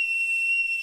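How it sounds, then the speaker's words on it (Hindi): A whistle blown to start a game, one steady, piercing high tone held for just under a second, loud and close with no talk over it. "सीटी बजते ही गेम स्टार्ट हो जाएगा।"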